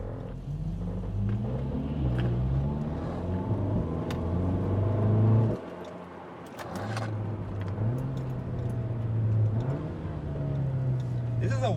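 A BMW 135i passing close by on the road, its engine a steady low rumble with rising and falling harmonic tones as it accelerates, briefly dipping before building again, with voices talking over it.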